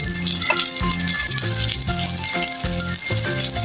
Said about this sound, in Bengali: আদা রসুন গুলো দিয়ে একটু ভেজে নিব